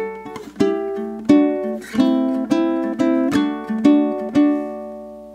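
A ukulele plays the descending chord walk down from the chorus of a song, with a series of plucked chords ringing one after another, close and clear.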